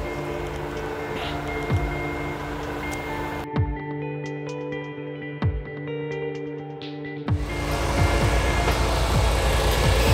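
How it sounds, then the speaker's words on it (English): A huge truck passes on a city street at night, a broad loud engine roar filling the middle of the clip, dropping away abruptly and then returning as a steady heavy rumble of traffic. "huge truck making a lot of noise"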